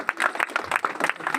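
An audience at a society event for visually impaired people in Sant Nagar, Burari, Delhi claps in uneven bursts, a close, lively patter of hands with some voices mixed in.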